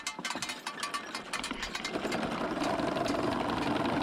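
A horse-drawn mower with a swath board on its cutter bar, pulled by draft horses through clover hay, gives a fast rattling clatter that grows into a dense, steady chatter, close and moderately loud.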